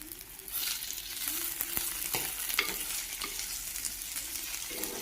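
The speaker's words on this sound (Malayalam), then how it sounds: "എല്ലാം ചേർത്ത് ഒന്ന് നമുക്ക് ചെറുതായിട്ടൊന്ന് ഇതേമാതിരി ഇളക്കി കൊടുക്കാം." Chopped green chilli and tomato sizzle steadily in a pan for a mango fish curry, while a spoon stirs them with repeated scraping clicks over the continuous frying hiss.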